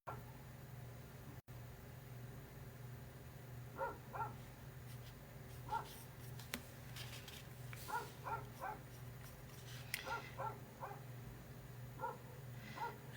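A farmhand's dog whimpers and gives short yips and barks in scattered bursts, moderately distant, over a steady low outdoor hum with no talking.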